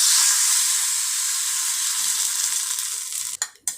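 Mustard seeds, urad dal, asafoetida and curry leaves sizzle hard in hot oil for a chutney tempering, a loud close frying hiss that eases slightly before a few clatters at the end.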